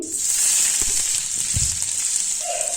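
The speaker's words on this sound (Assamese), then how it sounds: "গোটা ধনিয়াকেইটা যেতিয়া ফুটিছে, তেতিয়া মই ইয়াত পিঁয়াজ দি দিম।" Onion frying in hot oil with whole coriander seeds, a steady close sizzle with a few soft stirring knocks, no voices.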